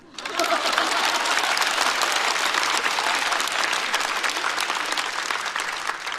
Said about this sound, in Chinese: 但爱我，毫无缘由的爱我（括号鼓掌吧）。